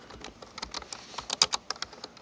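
Quick, uneven clicks of typing on a computer keyboard, close up, with a few harder keystrokes in the middle and no talk.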